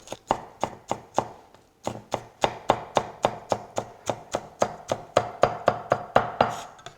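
A knife chops green onion on a cutting board, making about two dozen sharp, evenly spaced close thuds at a brisk, steady rhythm with one short pause, alone and clear.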